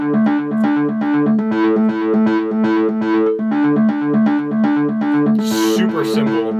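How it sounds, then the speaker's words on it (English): A keyboard arpeggiator plays rapid, evenly pulsing repeated notes within a full song mix, loud and steady throughout, with a brighter cymbal-like burst near the end. "it was the arpeggiator on the keys, which is that sound you hear."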